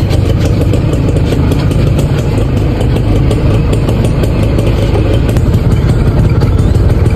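A two-wheeler's engine runs steadily while being ridden, a loud, close, continuous mid-pitched drone with slight throttle wavering and wind, and no voices over it.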